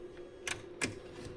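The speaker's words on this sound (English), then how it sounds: "And that's a tom." A Linn LM-1 drum machine plays a tom, two short, sharp hits about a third of a second apart, quiet and close against a faint steady hum.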